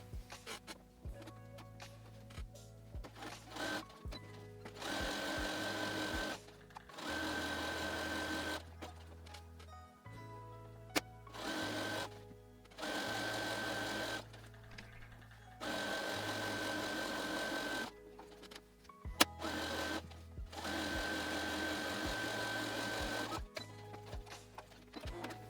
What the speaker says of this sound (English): So let me go back to the machine and sew up my 3 sides.